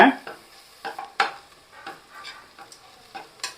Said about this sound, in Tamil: இப்போ கையை எடுத்துடாதீங்க கிண்டிகிட்டே வாங்க